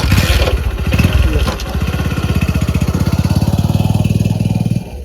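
A motorcycle engine turning over and then running at a steady, rapid putter, close and loud, with a brief rougher burst at the start before the even idle rhythm settles.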